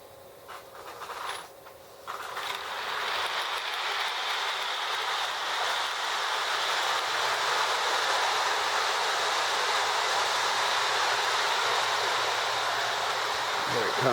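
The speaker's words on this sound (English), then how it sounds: "Let me bring the train around." A Marx toy train runs around its track with a steady whirring rumble that starts softly and then holds at an even level for a long stretch.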